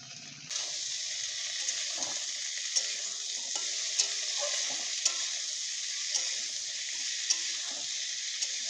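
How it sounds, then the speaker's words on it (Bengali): Garlic frying in a pan for mashed flat beans keeps up a continuous close sizzle, with faint scrapes of stirring and a few soft clicks breaking through the steady hiss. "রসুন ভালো করে নাড়িয়ে নিতে হবে।"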